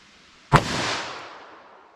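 A single gunshot from a .357 Magnum revolver firing a hard cast 180 grain round at a target about five yards away, one sharp loud crack followed by a short decaying echo, no voices.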